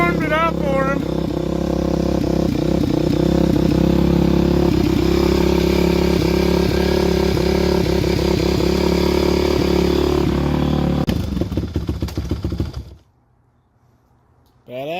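A Kawasaki KX450F dirt bike engine runs loud and close with a throbbing idle and rising and falling revs, with people talking over it, then the engine cuts out and falls nearly silent near the end.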